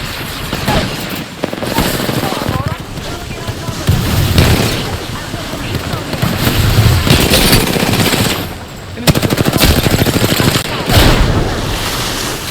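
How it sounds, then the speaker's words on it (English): Gunfire in a ranked Apex Legends match: loud, rapid automatic bursts with heavy booms, broken by a brief lull before the shooting resumes. A voice can be heard talking among the shots. "They're shooting at me."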